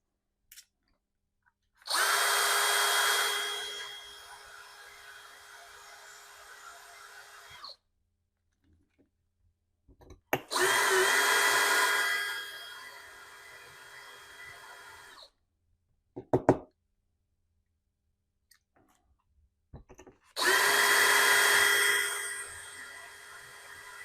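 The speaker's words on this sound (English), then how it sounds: "we are going to have to drill out this rivet in order to take this bed off." Three long bursts of a high-pitched power drill whining as it drills out a metal rivet on a 1/64-scale Greenlight 2020 Ram pickup model, separated by short pauses with small clanks and taps.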